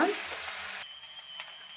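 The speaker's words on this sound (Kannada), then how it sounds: "ಈಗ ಆಲೂಗಡ್ಡೆ ಎಲ್ಲ ಹಾಕಿದ ಮೇಲೆ ನಾವು ಕಲಸೋಣ" Mashed potato filling is mixed with an onion tempering in a pan for masala dosa, a brief burst of sizzling and scraping that quickly thins to a faint hiss.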